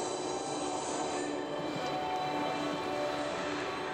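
The underground Mail Rail train beneath Mount Pleasant Sorting Office runs steadily through its tunnel, a continuous rumbling rattle with faint metallic wheel squeal, close and unbroken for several seconds.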